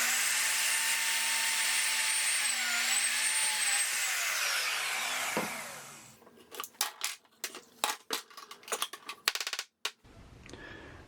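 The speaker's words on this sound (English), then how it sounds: "I then move the router over to the end stop block and drill the second hole." A plunge router drilling holes in wood beside an end stop block: a loud, sustained high motor whine that dips and shifts in pitch, then spins down, followed by scattered sharp clicks and knocks.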